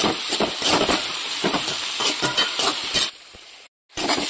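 Curry leaves sizzling in hot oil while cooking a fish curry, a dense steady hiss and crackle that runs loud for about three seconds, then briefly drops, cuts out and returns.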